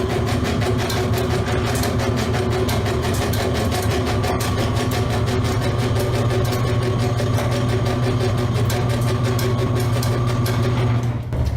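A steady electric boat lift motor hums and whirs continuously with a mechanical drone while lowering, unchanging in level throughout, with no voices.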